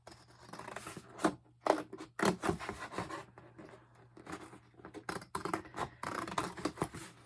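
Scissors snip and rustle through a folded book page during a paper-crafting project, close up, with irregular crisp cuts and paper rubbing in uneven bursts.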